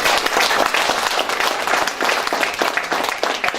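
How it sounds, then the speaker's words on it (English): Audience applause at a quantity surveyors' professional seminar in Dubai, a dense, steady round of clapping throughout, close and fairly loud. "please give a big round of applause to him"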